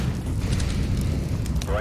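An incendiary grenade fire burns in Counter-Strike: Global Offensive, a loud, steady roaring whoosh that fills the whole brief moment on its own.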